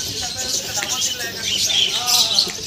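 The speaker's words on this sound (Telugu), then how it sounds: "మొత్తం ఈ కిల కిల కిల కిల ఇదే చప్పుడు" Many caged birds chirp at once at a bird market in an old city lane, a dense high twittering chorus that fills the air continuously with other market noise underneath.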